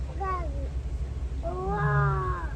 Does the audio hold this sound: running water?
no